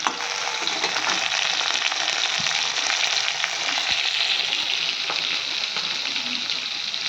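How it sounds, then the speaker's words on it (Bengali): Fish sizzles and spatters steadily in hot oil in a pan, a dense crackling hiss with occasional stirring scrapes. "আর এখানে মাছ ভাজা হচ্ছে"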